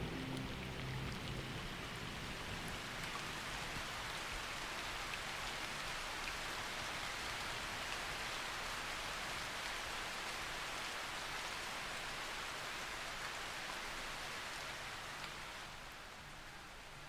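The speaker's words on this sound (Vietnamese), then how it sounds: "những đám mây mưa tái xuất hiện" Steady rain falls across the African wilderness during a summer monsoon shower, a dense even hiss of drops on the ground and foliage that holds constant throughout, fading slightly at the end.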